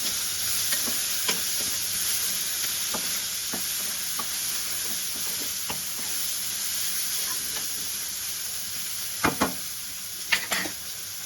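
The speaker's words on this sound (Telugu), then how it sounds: "ఇది బాగా వేగాలన్నమాట." Mutton kheema fried rice sizzles steadily in a hot pan, with a constant frying hiss broken by repeated scraping stirs and a few louder clanks of the spatula near the end.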